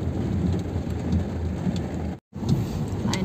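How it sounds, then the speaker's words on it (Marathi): Heavy rain pouring onto a flooded road while stuck in traffic, a dense continuous hiss with scattered drop impacts and a brief dropout near the end. "आज पाऊस पण भरपूर पडतोय."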